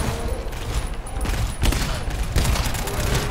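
Dense rapid gunfire in the co-op shooter game GTFO crackles continuously with overlapping shots and sharp bursts during a hectic fight.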